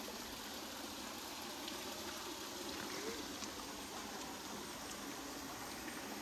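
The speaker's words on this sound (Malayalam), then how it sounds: "ഇത് കാട്ടരുവിയാണ്, കാട്ടരുവിൽ നിന്ന് വിടുന്ന വെള്ളമാണ്, നല്ല ക്ലീൻ വാട്ടറാണ്" A forest stream at Thattekad flowing steadily, heard as faint, continuous broadband rushing water with no talking.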